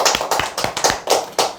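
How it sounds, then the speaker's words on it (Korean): An audience at a stock-investing lecture claps in a steady, fairly loud rhythm of about six or seven crisp claps, with no talking over it. "박수 한번 치셔야 되죠?"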